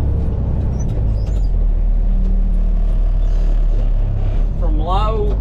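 International 4900 truck with a 5-speed transmission and 2-speed rear axle driving, a steady loud low engine drone inside the cab, with brief mechanical clicks and squeaks near the end.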